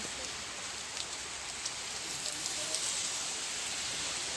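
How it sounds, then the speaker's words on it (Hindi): Steady rain falls during a rainy spell in Assam, a soft, even hiss of drops on surfaces with occasional faint patters, continuous and moderately quiet throughout. "बारिश रुक ही नहीं रही है।"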